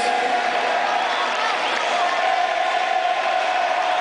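An audience roars and cheers for a band at a festival final, a dense, continuous crowd wash with whoops and shouts rising over it.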